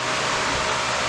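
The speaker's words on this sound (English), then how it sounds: "I apologize for the fan noise in the background." A fan whirs steadily in a garage beside a CBR600 motorcycle project, a constant broadband hiss with no break or change across the short stretch.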